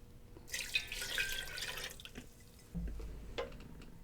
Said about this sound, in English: 1 cup of cider vinegar.